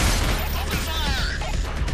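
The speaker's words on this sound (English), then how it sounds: "Open fire!" Gunfire in the horror game Nightmare House 2, a dense rumbling barrage of shots and booms filling a short burst, loud and continuous, mixed with a voice speaking over it.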